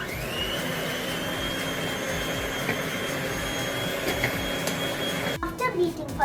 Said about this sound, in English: Then we beat it for 2 minutes till it becomes creamy.